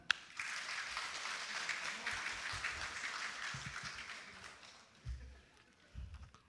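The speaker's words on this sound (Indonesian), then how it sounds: "Kasih tepuk tangan." Applause breaks out at the opening of the Indonesian koi lovers' association national congress in Blitar: a fairly distant, steady patter of many hands that fades toward the end, with a few low thumps.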